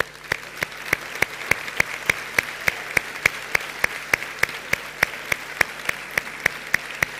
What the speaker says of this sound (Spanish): Denle un aplauso a ellos.